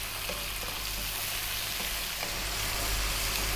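Large shrimp fry in a hot pan with a steady, loud, continuous sizzle, punctuated by faint scrapes as they are stirred and kept moving, with no pauses or talk.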